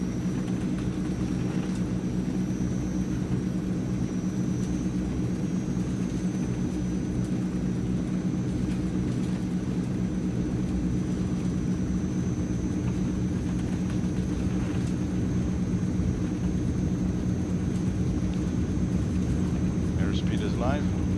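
Twin turboprop engines of a Transall C160 in Microsoft Flight Simulator drone loudly and steadily through a takeoff roll, a constant low rumble with a high whine layered above it.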